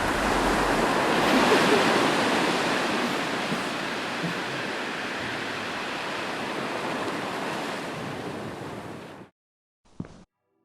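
Ocean waves crash and surge at the foot of a cliff in a steady, dense wash of noise that swells early, then fades out abruptly into silence near the end.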